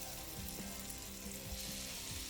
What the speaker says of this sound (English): I'm going to go ahead and add the butter in to basically deglaze the pan.